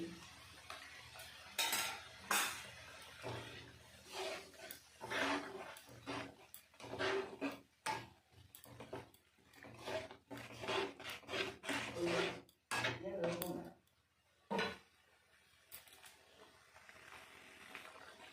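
Whisked yogurt stirred into palak paneer in a pan, with a spoon scraping and rubbing against the metal in repeated strokes, close and fairly quiet, with no talking.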